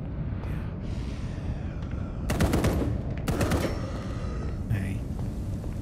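Pistol shots ring out in a video game, two sharp bursts of gunfire cutting through a steady din of game noise, with a voice talking quietly underneath.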